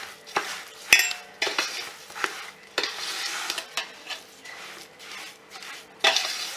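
Spices such as turmeric and fennel seed being stirred into berries for gol keri pickle, a spoon scraping and clinking against the bowl in repeated irregular strokes, close and fairly loud.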